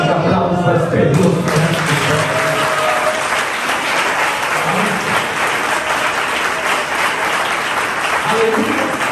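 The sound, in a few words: applause in a church service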